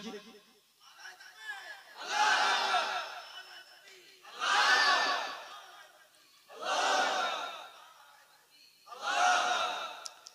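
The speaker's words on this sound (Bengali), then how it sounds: "দেন তাকবীর মারেন দেখি" Four loud, rhythmic bursts of crowd shouting the takbir at a Bengali Furfura Sharif waz sermon gathering, each swelling roar separated by short pauses, with many voices chanting together.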